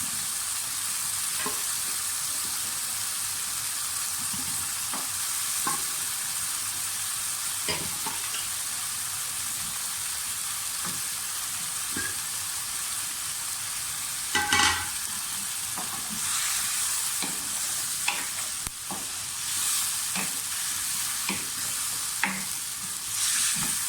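Half a kilo of boiled mutton sizzles and fries steadily in a pan, a continuous hiss broken by scattered stirring clicks and a brief louder burst partway through, no voices.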